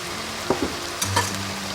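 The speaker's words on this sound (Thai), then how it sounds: "นี่ก็ผัดเข้ากันค่ะ" Kale with crispy pork being stir-fried in a hot pan, a steady loud sizzle with a few scraping stirs of the spatula over it.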